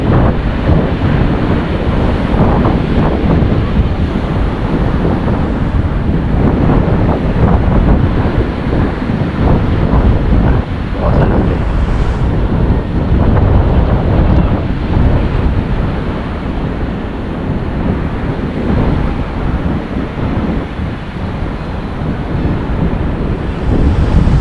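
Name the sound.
wind blowing on a boat at sea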